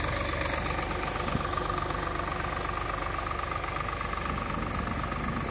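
A 2024 Swaraj 855 4x4 tractor engine runs steadily while pulling a 13-tine cultivator in a field, a constant low rumbling chug with mechanical vibration, close and unbroken.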